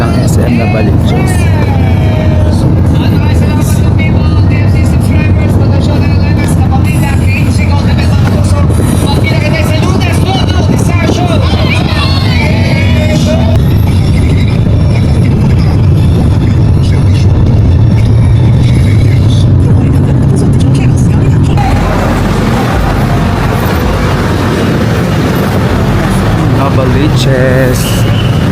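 Steady low rumble of a moving bus interior carries on throughout, loud and continuous with road and engine noise, shifting in character near the end; voices murmur faintly in the background.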